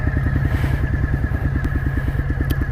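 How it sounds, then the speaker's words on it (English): A sport motorcycle rides along at low speed, its engine giving a close, steady, rhythmic low throb with light mechanical clatter on top, unbroken throughout and with no voices. "We're just going to drive the bike down here."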